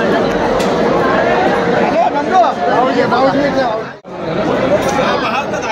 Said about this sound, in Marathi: एवढी गर्दी आहे बघा.